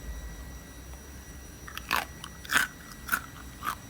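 Four crisp crunches follow one another as teeth bite through the crackling skin of oven-roasted pork belly (siobak), close and clear against a quiet room with no talking.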